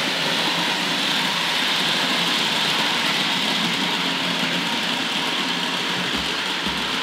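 A Duchess model train locomotive runs around a track, giving a steady, continuous whirring rumble that stays close and fairly loud without pause.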